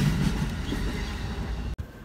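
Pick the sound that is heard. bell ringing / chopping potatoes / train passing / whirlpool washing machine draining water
train passing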